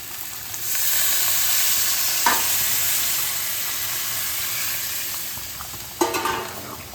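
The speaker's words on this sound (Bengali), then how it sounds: "মশলার সঙ্গে সবজিগুলো সব মেশানো হয়ে গেছে, এবার আমি এর মধ্যে জল দিয়ে দেব।" Spiced drumsticks and vegetables hiss and sizzle loudly in a pan as water is poured in, with a steady steamy roar and brief sharp bursts near the start and end.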